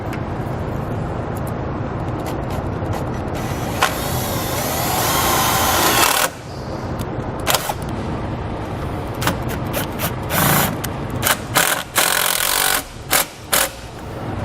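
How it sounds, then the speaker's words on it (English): Self-tapping screw driven in with a power driver while mounting a battery charge line kit on a towed vehicle, a loud continuous whir for several seconds followed by short bursts of driving. "I'm going to go ahead and get one of my screws started."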